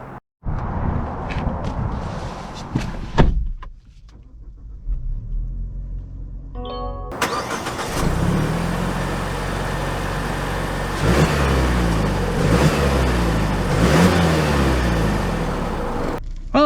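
A 2023 Mazda CX-50 Premium Plus Turbo heard from inside: a brief start and idle, a short pause, then a loud rumbling engine that rises as the crossover pulls away and keeps steady under acceleration.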